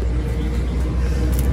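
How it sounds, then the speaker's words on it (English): A truck rolls past on a road in Ghana, a loud, steady low rumble of engine and tires close by that holds throughout the short moment without any speech. "Let this truck go."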